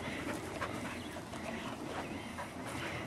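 A two-year-old dog pants and whimpers close by, quick rhythmic breaths broken by a few soft high whines, fairly clear with little else around it.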